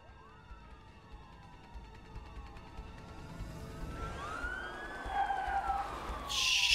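Ambulance siren in the video game A Way Out, its wailing tone sweeping up and down and growing steadily louder as the vehicle approaches, ending near and loud, with no talk over it.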